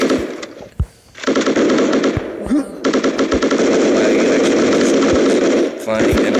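Rapid automatic AK rifle fire in a video game, long sustained bursts with brief gaps, loud and close, a short voice heard early on.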